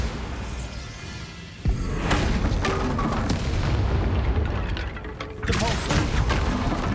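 The Bombarda spell goes off in Hogwarts Legacy combat as a loud booming blast with a sudden burst, followed by rumbling, crackling battle noise and further impacts, with speech in the mix.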